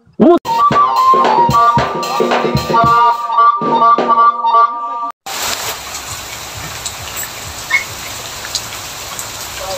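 Heavy rain pours down as a dense, constant roar in the second half, after a stretch of ringing, tonal sounds.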